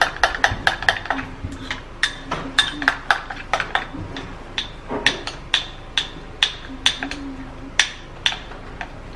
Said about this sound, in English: I'm gonna be putting about 1 tablespoon of my Fuller's Earth clay powder in here, and then we're going to gently stir